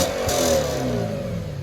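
A 2007 Audi RS4's 4.2L V8 with a resonator-deleted dual exhaust revs loudly nearby, giving a sustained throaty engine roar with the pitch rising and falling, and no talk.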